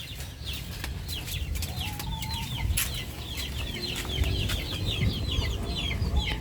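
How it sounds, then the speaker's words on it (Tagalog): Many chicks peep and chirp noisily at once on a gamefarm, a dense, continuous high-pitched chorus close by, with some lower clucking and background wind. "naririnig nyo ba yung mga sisu namin? Ang iingay."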